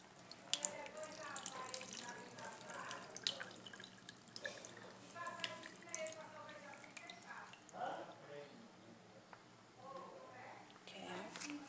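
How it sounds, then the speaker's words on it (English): Water drains from a cooking pot, splashing and trickling with scattered drips, soft and close, while a faint voice sounds in the background. "So I'm just gonna drain this too."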